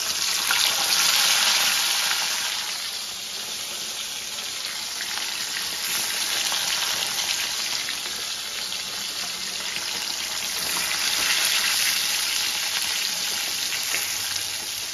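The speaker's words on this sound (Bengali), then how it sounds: "বাকি মাছগুলো আমি এইভাবেই ভেজে নেব।" Pieces of rohu fish fry in hot oil with a loud, dense, continuous sizzle that swells and eases slightly over its length, with no voices.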